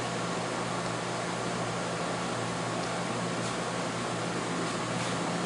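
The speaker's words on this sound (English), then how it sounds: "Got the air conditioning running out here." An air conditioning unit runs outdoors, giving a steady, even broadband hum and hiss with a low drone that holds at a constant level throughout, with no voices.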